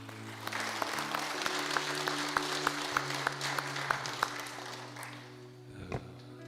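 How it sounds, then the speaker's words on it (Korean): Church congregation at a Korean Sunday service applauding two children: moderate, even clapping with a few sharper claps standing out, over a steady background hum, fading near the end. "우리 하진이, 은별이에게 다시 한번 박수 보내주시기 바랍니다"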